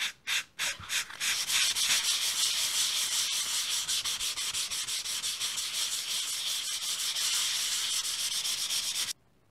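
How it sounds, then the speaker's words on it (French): Fine-grit flexible sanding sponge rubbing over a paste stencil on metal, a close, steady scratchy rasp with quick rhythmic strokes that runs continuously for about nine seconds before stopping abruptly. "j'ai poncé les deux couches de pâte à poche"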